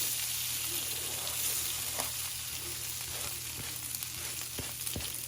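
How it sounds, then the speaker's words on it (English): Finely diced potatoes and onions fry together in olive oil in a single skillet, a steady close sizzle with faint crackles and a few soft pops over about five seconds, no voices. "I put potatoes and onions in the same time, because when they're this fine, that small, they'll cook pretty quick."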